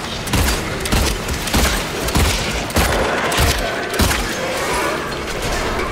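Gunshots ring out in Silent Hill 2 Remake on PS5 as a creature is fired at, about eight sharp, heavy reports at irregular spacing over a dense, noisy game backdrop.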